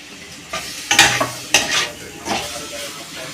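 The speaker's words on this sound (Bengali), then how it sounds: "আমি ঢাকা দিয়ে দিয়ে কষছি টমেটোটা" Chopped tomatoes with green chilli sauté in a pan that is covered between stirs, giving a low sizzle under several clattering scrapes and knocks of a utensil against the metal, close by and without talk.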